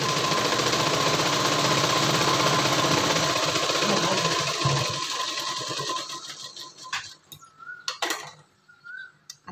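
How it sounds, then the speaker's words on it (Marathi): A sewing machine stitching a fitting seam on a prince-cut designer blouse, a fast steady mechanical whir for about five seconds, then stopping, followed by a few sparse clicks and handling sounds. "मग आता चला या ठिकाणी आपण फिटिंगची शिलाई देऊन देऊ."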